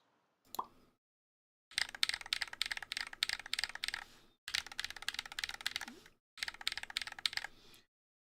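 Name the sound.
GMMK Pro mechanical keyboard switch being pressed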